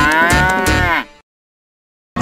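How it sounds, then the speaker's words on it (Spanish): A cow moos once, loud and close, a long drawn-out low call that fades away into silence. "vaca."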